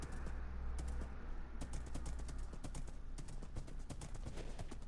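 Hoofbeats of a horse in the game Minecraft patter in a fast, regular rhythm of sharp clicks over a low hum, continuing throughout without speech.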